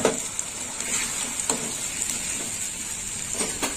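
Water splashes into a wok of frying spice paste with green chilli for a prawn dish, raising a steady close sizzle with a few sharp spatters and stirring clinks.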